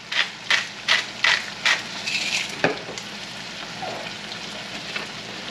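Catfish fillets and asparagus frying in a pan, giving a steady crackling sizzle with a few louder stirring or scraping bursts near the start, close by and without any talking.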